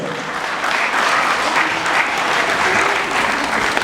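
Audience applause at a children's charity concert, a steady, full round of clapping from a crowd that holds at an even, loud level throughout without pause.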